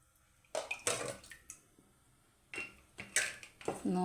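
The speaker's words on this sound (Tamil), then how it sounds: "5 டம்ளர் தண்ணி ஊற்றிக்கலாங்க" Water from a tumbler is poured into a cooking pot for mushroom biryani in short splashing bursts at close range, with clinks of metal between pours and quiet pauses.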